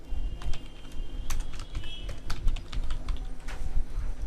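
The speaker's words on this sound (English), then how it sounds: "24, bold, underline, then type MARIA" Steady, close keyboard typing with irregular clicks and a few sharper key strikes while entering text in MS Word; no talking.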